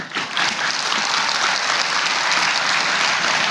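Audience applause fills a religious lecture by an Islamic preacher at a pesantren centenary gathering, dense steady clapping from a large crowd, loud and continuous throughout with no voices over it.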